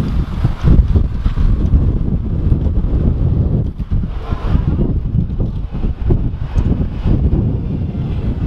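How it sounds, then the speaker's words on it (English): Strong wind in London at night roars and buffets the microphone continuously, with heavy low rumbling gusts rising and falling throughout, no voices. "it is bloody windy right now"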